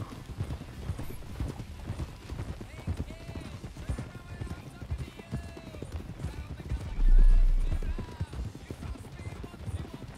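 Horses clip-clopping at a steady walk in the Red Dead Redemption 2 video game, hoof beats close and continuous under an occasional snort, with a brief louder swell near the end and a game soundtrack faintly underneath.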